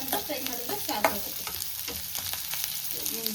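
Spices fry lightly in a pan for a goat head sambar, making a soft close sizzle broken by intermittent stirring clatter and scraping, with no talking.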